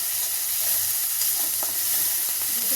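Onion paste with ginger and garlic paste sizzles steadily in a hot pan, a continuous bright frying hiss with a few faint stirring clicks, no voices.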